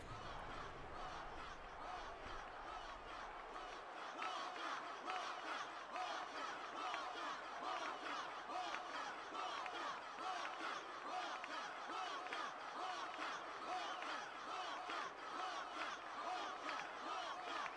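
A distant stadium crowd in Final Fantasy X chants and cheers for Wakka as a steady, dense roar that continues the whole time, with no one talking over it.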